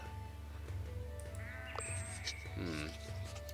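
Sheep bleat from a video game, two short wavering calls near the end over a steady low in-game hum and background music.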